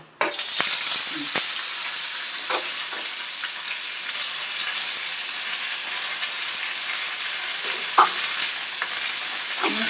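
Curry leaves sizzle steadily in hot oil after the flame is switched off, a loud continuous crackling hiss, broken now and then by soft stirring clicks.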